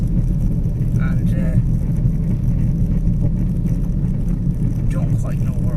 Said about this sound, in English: there's a car up my ass